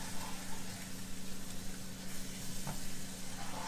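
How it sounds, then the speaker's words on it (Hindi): Roasted flour being stirred with milk in a pan over very low heat gives a steady, soft sizzle with scraping stir noises, close and continuous, with no talking. "मैदा अच्छे से भुन गया तो हम इसमें थोड़ा थोड़ा दूध डाल इसको अच्छे से चलाते रहेंगे"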